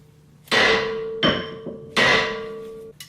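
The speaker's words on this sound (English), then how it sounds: "Other times, you want to hit the side of this thing to try and loosen the tension." A hammer strikes the steering linkage on a 2000 Jeep XJ to loosen the steering stabilizer, three sharp metallic clanks with ringing decay, close and loud, followed by a faint tap.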